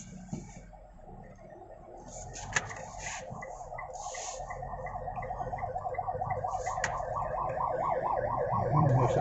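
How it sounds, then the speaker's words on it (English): A wailing ambulance siren cycles steadily over city traffic noise in Cebu City, Philippines, growing gradually louder as it approaches. "There's an ambulance."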